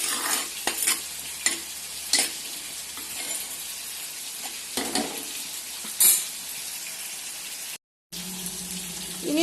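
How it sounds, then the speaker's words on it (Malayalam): Half a teaspoon of turmeric powder frying in a pan, a continuous close sizzle broken by repeated scraping stirs and a few sharp metal knocks, with a brief silent gap near the end. "ഒരു 1/2 ടീസ്പൂൺ മഞ്ഞൾപ്പൊടി. അപ്പോൾ രണ്ടും കൂടെ ഒന്ന് മൂക്കട്ടെ."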